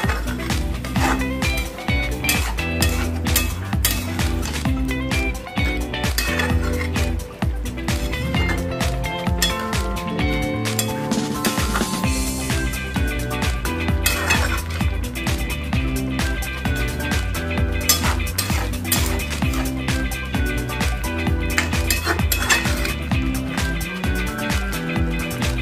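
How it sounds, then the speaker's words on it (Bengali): Metal utensil stirring chicken liver and gizzard curry in a pan after water is added, with repeated clinks and scrapes over a dense, busy background. "জল দিয়ে ভালোভাবে এটা মিশিয়ে নিচ্ছি।"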